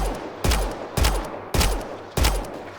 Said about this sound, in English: And then I shot him in the head.